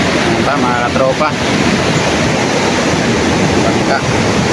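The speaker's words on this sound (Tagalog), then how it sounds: "Malalaki pa rin ang alon." Big sea waves crash on the shore during a typhoon near beached boats, a steady loud roar of surf mixed with heavy wind buffeting the microphone throughout, with brief voice-like traces early on.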